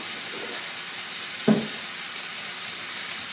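Brown sugar, two tablespoons, heating in a pan for sloppy joes, giving a steady broadband sizzle throughout with one brief knock or clatter at the midpoint, and no talk.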